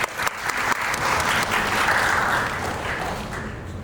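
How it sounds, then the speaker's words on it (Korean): An audience at an aerospace systems engineering academic conference applauds, a dense burst of clapping that is loud at first and then slowly fades. "큰 박수로 맞이 부탁드립니다."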